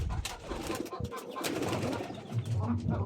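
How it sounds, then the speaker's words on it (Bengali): Sirazi pigeons on a rooftop give low, throaty coos in repeated rounds, fairly close, with soft rustling and a voice talking faintly in the background. "এগুলো হচ্ছে সিরাজি কবুতর।"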